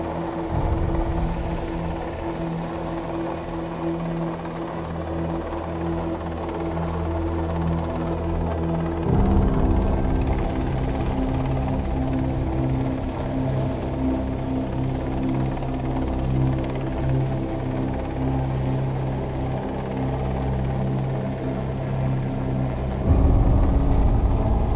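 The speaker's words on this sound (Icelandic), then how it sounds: "Því undir þyrlunni verður mikið særok og það getur verið erfitt að athafna sig." A Coast Guard helicopter hovers over the sea during a routine training exercise, its loud, steady rotor and turbine roar filling the air, rising in intensity partway through and again near the end, with no voices.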